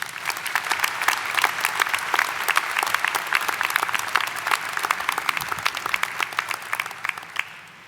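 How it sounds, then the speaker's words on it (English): Dense applause from a large audience at a 2024 University of Mississippi doctoral hooding ceremony, steady clapping that fills the space and then tapers off toward the end. "Let's give him one more round of applause."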